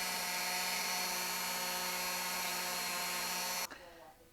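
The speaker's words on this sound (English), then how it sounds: "anywhere that this will rub up against on the slide in the firing pin channel, I'm going to go ahead and give it a polish" A high-pitched power tool whines steadily as it polishes the firing pin channel on a Ruger RXM pistol slide, loud and close, then cuts off abruptly near the end and spins down briefly.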